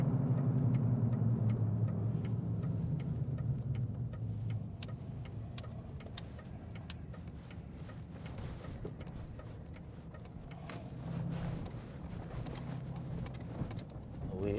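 A Ford Ranger pickup rolls into a parking lot with a steady, fairly quiet low engine hum and road rumble throughout, plus faint ticking clicks.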